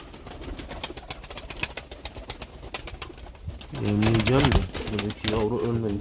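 Posta pigeons coo in a crowded coop at feeding time, with soft background rustling and shuffling giving way to loud, close, repeated cooing calls in the second half.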